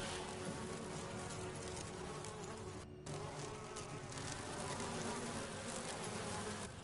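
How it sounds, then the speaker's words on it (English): A swarm of bees buzzing in the video game Resident Evil Remake, a dense steady droning hum that stays loud and close throughout, with only a brief dip partway through. "The bees!"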